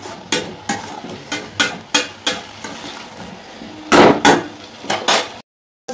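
A spatula stirs raw banana fry in a metal pan. It gives a steady series of sharp clinks and scrapes, roughly two or three a second, close and fairly loud, ending in a brief silence.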